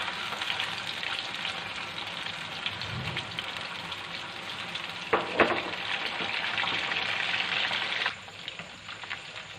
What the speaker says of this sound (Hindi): कोफ्ते हमारे फ्राई हो चुके हैं, इन्हें हम निकाल लेंगे और जो हमारे पास बाकी है वो हम डालकर फ्राई कर लेंगे।